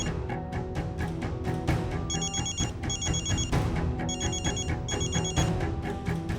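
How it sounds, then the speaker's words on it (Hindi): A telephone rings in repeated electronic bursts, bright trilling tones recurring in short rhythmic groups, steady and moderately loud, with no talking over it. "भाई, दिव्या दीदी का फोन है।"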